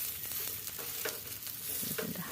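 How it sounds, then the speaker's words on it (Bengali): Beetroot roti cooks on a hot pan with a steady close sizzle and a few brief scraping or pressing sounds, moderately loud and unbroken. "এখন আমি আর একটা রুটি দিয়ে দেবো"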